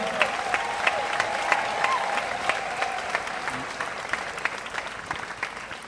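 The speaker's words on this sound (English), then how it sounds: "clap your hands to Jesus." A wedding congregation at a church service claps hands steadily and loudly, a dense continuous patter that fills the space with no voices in front.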